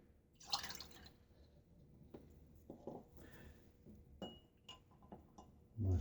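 Water is poured and dripped into shaving soap in a bowl, with small clinks and drips against glass, quiet and close with no talking.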